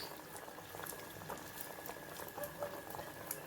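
Pudina masala vadas fry in hot oil in a kadai, giving a faint, continuous bubbling and crackling sizzle with small irregular pops, quiet and steady throughout.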